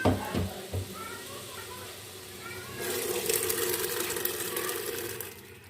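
Masoor dal lentils pour into a cooking pot of simmered tomatoes and spices, making a steady rushing patter that starts midway and continues to the end, after a few soft knocks and faint background noise.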